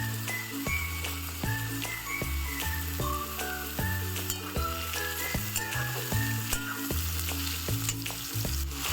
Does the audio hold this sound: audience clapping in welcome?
no